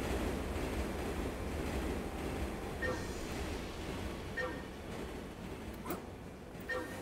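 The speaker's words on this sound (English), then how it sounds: "Avoid the train, they get to the station" A train rumbles along the tracks in Turok 3, a steady, loud low roar with faint rail squeals and clanks rising near the end, and no talking.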